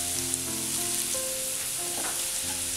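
Turmeric, coriander and chili powders fry in hot oil for a Kerala curry with red spinach, giving a steady close sizzle with faint clinks of a spoon against the pan; no one speaks.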